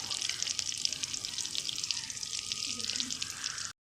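Chicken lollipops frying in hot oil at home while being turned: a soft, steady hiss and crackle of sizzling with faint scraping, quiet throughout and cut off abruptly near the end.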